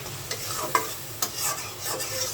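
Dried loitta fish sizzles gently in a hot pan while being stirred, a soft steady crackle broken by a few light scraping taps.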